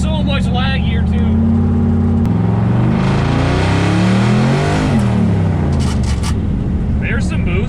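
Twin-turbo Chevrolet Malibu fitted with VS Racing turbos, accelerating hard: engine revs rising and falling through gear changes, loud and close, with talk over it throughout.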